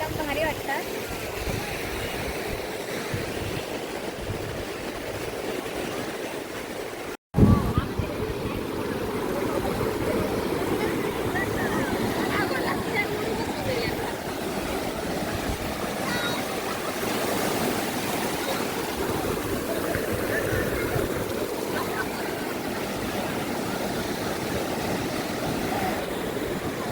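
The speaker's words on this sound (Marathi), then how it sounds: "समुद्राची शांत लाटा एकदम भारी वाटतात" Calm sea waves wash steadily onto Malvan beach on the Sindhudurg Konkan coast near the fort. The surf is a continuous, even roar with one brief cutout and thump partway through.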